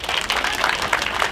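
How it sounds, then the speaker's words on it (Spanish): Audience applause for a dancer at a perreo dance contest, a steady broadband clatter of many hands clapping at once, filling the short stretch without a break. "Aplauso para ella."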